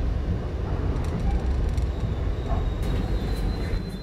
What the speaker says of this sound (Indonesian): akhirnya kereta api Argo Parahyangan dengan nomor KA67F yang saya naiki ini tiba di tujuan akhirnya di Stasiun Gambir